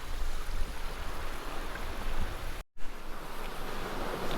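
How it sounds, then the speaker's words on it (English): A small, dinky waterfall on a beach at Eype pours with a steady, close hiss of splashing water that breaks off for a split second midway. "nice little waterfall there."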